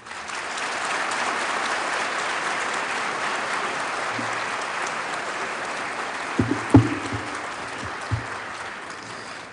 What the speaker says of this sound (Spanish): con este aplauso hemos llegado al final de esta graduación de posgrado